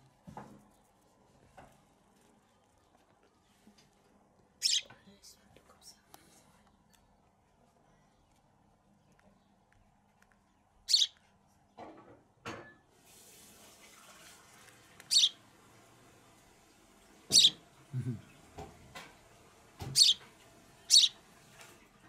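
A sparrow gives sharp, scattered chirps, several loud close calls spaced out over a quiet room with faint background noise and a brief splash of water midway.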